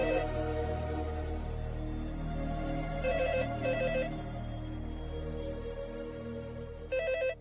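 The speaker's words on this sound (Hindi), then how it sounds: "अक्षत फोन बज रहा है" A household telephone rings in a family drama, its repeated electronic bell bursts standing out over soft background music, loud and close with a regular on-off rhythm.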